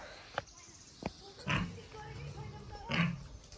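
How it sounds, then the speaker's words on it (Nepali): A few short pig grunts at irregular intervals, moderately close, with faint background noise between them. "सुँगुर"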